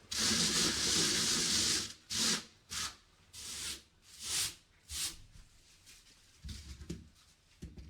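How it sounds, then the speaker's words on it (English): A hump is sanded off a Milestone "Bergamo" stone countertop during installation: one long sustained grinding pass, then a series of short, rhythmic sanding strokes, close and fairly loud. "I can sand that hump off just a little bit"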